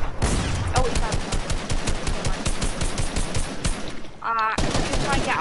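Rapid bursts of video-game gunfire fill most of the stretch, a dense run of sharp shots with a brief pause near the end before firing resumes; a voice cuts in faintly.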